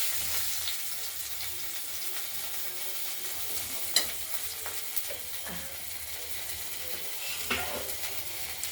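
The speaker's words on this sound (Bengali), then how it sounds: "জিরে ফোড়ন" Cumin seeds sizzle in hot oil for tempering, a faint, steady hiss with a few light clicks and taps from stirring scattered through it.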